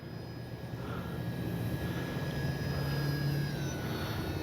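A small RC H-King Kitfox model airplane holds a steady engine drone at about half throttle, a continuous even whine with faint tonal overtones and no voices.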